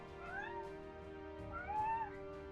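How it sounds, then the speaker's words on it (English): A pet cat meows twice in quick succession, drawn-out and rising-falling, close by and fairly clear over a faint steady background hum. "Lots of meows."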